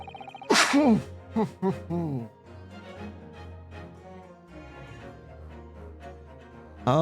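A single sharp sneeze bursts out near the start, followed by breathy gasps and quieter vocal sounds, with speech-like murmuring after.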